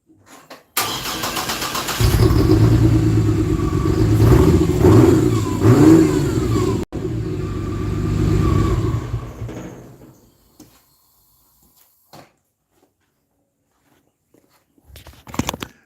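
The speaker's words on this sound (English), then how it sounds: "I think I might need to start it up again and give it a rev." A 1949 Chevrolet fitted with a 4200 Vortec engine cranks, fires up and revs loudly nearby, rising and falling for several seconds before cutting off abruptly, then a brief pause and a short restart burst.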